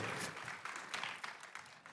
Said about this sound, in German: Applaus unserem Dan Nüsch